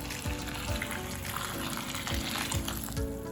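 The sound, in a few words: water poured over puffed rice to soak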